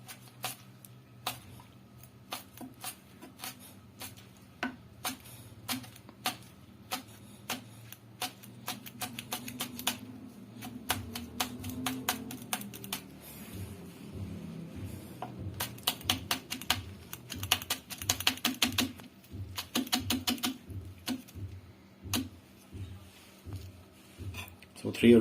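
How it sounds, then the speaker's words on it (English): Knife chopping green chilies into small pieces on a cutting board, a steady run of sharp close taps that speeds up toward the end, with someone talking over the cutting. "we have to take this green chilies, so we have to cut them into small pieces also"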